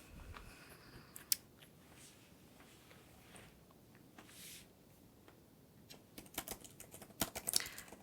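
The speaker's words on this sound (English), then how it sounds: "Just going to write up a couple of notes." Quiet pen or pencil scratching while notes are written during an ASMR exam roleplay, with faint irregular scribbles and soft taps that grow busier toward the end.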